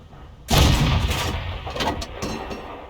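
A single heavy cannon blast from an M56 Scorpion tank gun in a video game, loud and close, followed by a rumbling decay with a few faint secondary thumps.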